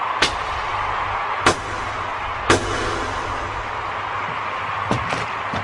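Several sharp blasts strike in an anime soccer match as the powerful Triple Gaz super technique shot is unleashed, loud booming hits at irregular intervals over a steady roaring wash.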